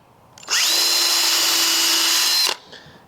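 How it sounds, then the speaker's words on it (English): A power drill whines at high speed for about two seconds while pre-drilling a hole in pallet wood, then stops abruptly, with quiet room noise before and after. "I want to definitely pre-drill these"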